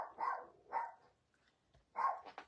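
A pet dog in a quiet indoor room barks twice, then once more after a pause. The barks are soft and distant, with no speech.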